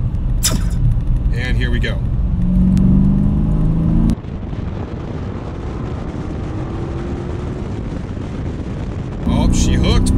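A Dodge Scat Pack with stock tires accelerates hard from about 40 mph in third gear, its engine roaring loud and close with a steady rising growl, a brief drop mid-pull, and someone talking briefly over it.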